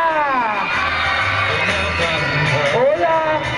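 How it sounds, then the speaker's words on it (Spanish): A live crowd at an appearance by Bebeshita at the Galerías Plaza de las Estrellas mall cheers and whoops loudly and continuously, with shouting voices rising and falling throughout. "Y el aplauso para Bebecita."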